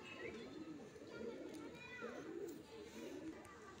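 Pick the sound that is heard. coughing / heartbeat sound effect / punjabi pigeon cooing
punjabi pigeon cooing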